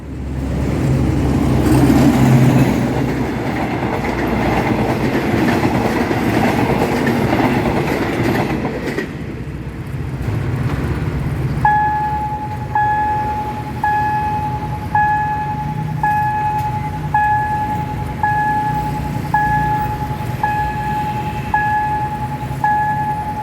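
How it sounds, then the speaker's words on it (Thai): A train rumbles loudly past on a curve with rolling wheel clatter, then a railroad crossing bell starts ringing in a steady, repeating rhythm at the Kamphaeng Phet 6 Road crossing near Don Mueang, Bangkok, as the train noise continues. "แต่ตอนนี้ขบวนรถมาแล้วนะ ทำขบวนมาโดยอันต้อมเข้าโค้งมาแล้วครับ"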